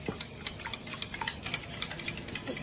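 Beaten eggs and half a cup of oil being mixed for homemade cake batter: a quick, steady ticking and clattering of the utensil against the bowl, close and fairly quiet, with no voices.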